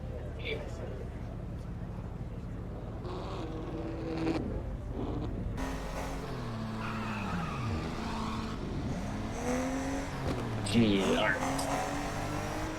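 Engine of a car in the racing game NFS Unbound revving and shifting at a car meet, with sweeping pitch rises and falls and tire squeals, under almost constant chatter from players.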